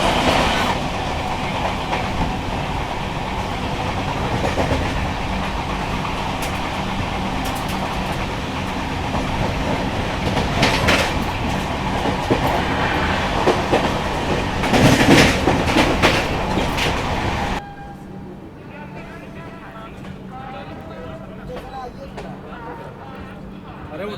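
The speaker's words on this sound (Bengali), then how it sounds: "ছেড়ে দিল আমাদের ট্রেনটি ঝাঝা রেলওয়ে স্টেশন থেকে" A passenger train rolls along the tracks after leaving Jhajha station, with steady rumbling clickety-clack and rattling carriages heard from inside, loud throughout and then suddenly muffled and quieter near the end, with voices talking underneath.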